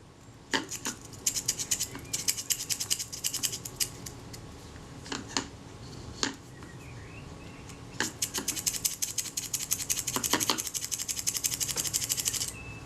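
A Synchro-Compur camera shutter mechanism is worked by hand during servicing, giving bursts of dry, close mechanical clicks and ratcheting snaps in irregular clusters with short pauses between them.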